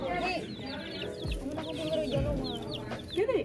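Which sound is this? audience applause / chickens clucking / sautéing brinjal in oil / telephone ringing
chickens clucking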